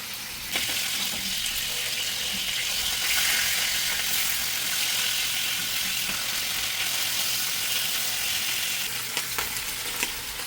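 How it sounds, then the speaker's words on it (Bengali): Hilsa fish pieces fry in oil in a small frying pan, giving a loud, steady, unbroken sizzle throughout with no talking. "একদিকে মাছ ভাজা হচ্ছে"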